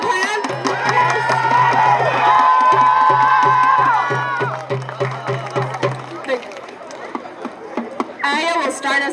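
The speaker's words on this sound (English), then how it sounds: "Can we give them a round of applause?" A crowd cheers and shouts with scattered clapping and a rhythmic low thumping beneath, voices rising and falling before the noise thins out.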